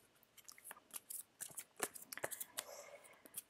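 Oracle cards drawn one by one from a deck, a quiet, close run of papery flicks, slides and taps in quick irregular bursts, with no voice over them.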